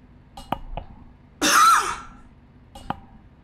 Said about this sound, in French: Je voulais me mute pour tousser